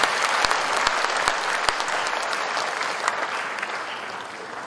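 An evening audience applauds as a singer is called up front, a loud, dense burst of crowd clapping with a few sharp individual claps early on, sustained throughout and easing slightly toward the end, with no talking.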